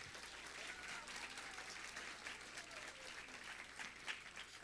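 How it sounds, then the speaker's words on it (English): An audience at a school award ceremony claps steadily and evenly throughout, a crowd of hands heard from within the room at moderate volume, with no cheering or talk over it. "let's give her a round of applause"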